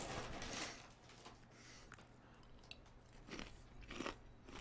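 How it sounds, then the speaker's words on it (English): Snack food is crunched and chewed up close, with loud crisp bites at the start and again near the end and softer munching between, over a low background hum. "That Crunch and Munch chases the Dorito nicely."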